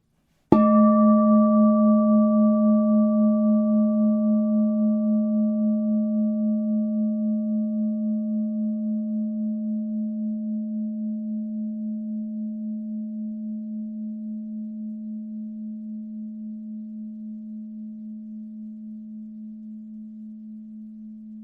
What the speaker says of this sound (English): Hear the sound of the bowl now.